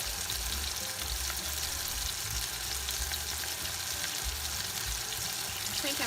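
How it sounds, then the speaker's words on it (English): Lobsters frying in a pan give a steady, dense sizzle and crackle throughout, close and continuous with faint kitchen clatter. "And they're frying."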